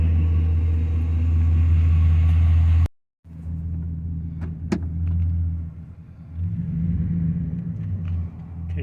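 A 2005 Dodge Ram 1500 pickup truck on the move, giving a steady, close low engine and road rumble that briefly cuts out, then resumes and swells slightly.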